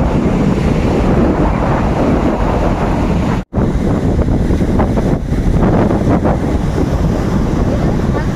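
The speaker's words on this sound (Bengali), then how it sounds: "আর তার সাথে এই সমুদ্রের ঢেউ।" Sea waves roll and break on the shore at Puri in a steady, loud wash, with strong wind buffeting the microphone and a brief dropout partway through.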